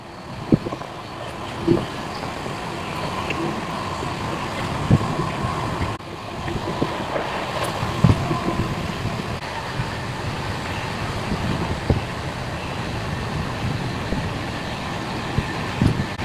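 Steady broadband rumble of a moving passenger train on the Tiruppur to Palakkad run, with a continuous low roar, wind noise and occasional soft thumps from the track, sustained throughout and without speech.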